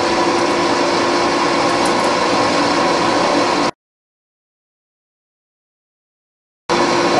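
A metal lathe turns a part down to diameter, giving a loud, steady broadband whir that runs unbroken for several seconds, stops abruptly into silence, then resumes at the end.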